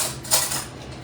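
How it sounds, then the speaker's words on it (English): A metal spoon is picked up from among kitchen utensils during cooking, a single brief clink and rattle, close and clear. "Let me get a spoon here."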